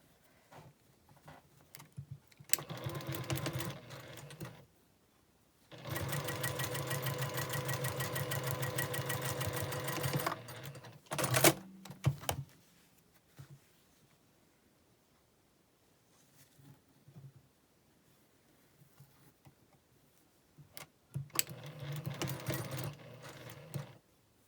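A sewing machine stitches triangles onto a Diamond in the Square quilt block, running in a steady buzzing burst of several seconds, then shorter runs with quiet pauses and handling noise between them.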